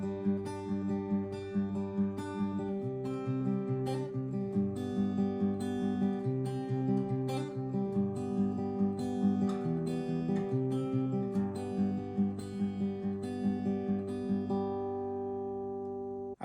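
Acoustic guitar plays the intro of a song, a steady strummed and picked chord progression with ringing sustained notes, close and clear for the whole stretch with no voice over it.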